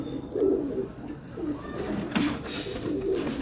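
Shah Parwazi high-flying pigeons coo repeatedly in soft, low rolling calls, several overlapping nearby, with steady background ambience.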